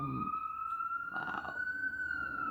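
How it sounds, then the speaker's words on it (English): Police car or ambulance siren passing in Kenya, a loud steady wailing tone that holds and drifts slightly in pitch, with someone briefly speaking over it. "excuse the police car or the ambulance. I don't know what it is. It's so loud"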